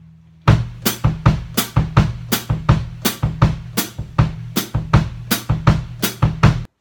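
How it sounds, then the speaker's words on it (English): Surdo samba rhythm played on a drum set bass drum: loud, close, repeating deep thumps in a steady pulsing pattern, with brighter cymbal or brush hits layered over them and no talking. "what we can do is play the surdo rhythm but on the bass drum"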